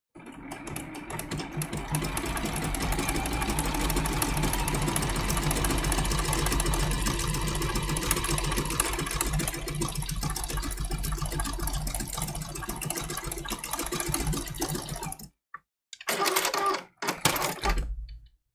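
A sewing machine stitches a decorative bow-shaped applique stitch on raw-edge fabric, running in a fast, continuous whir for about fifteen seconds, then stopping and restarting with a few short bursts.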